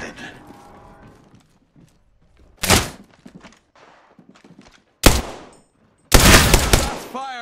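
Bursts of gunfire from a first-person shooter match in Apex Legends: three loud, sharp volleys land a few seconds apart, with fainter scattered impacts and clatter between them.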